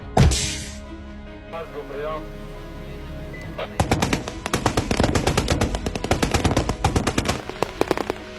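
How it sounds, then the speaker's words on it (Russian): Rapid bursts of automatic machine gun fire at a military firing exercise rattle in quick succession, loud and close, following a brief muffled opening shot. "открывают огонь по наступающему механизированному взводу условного противника"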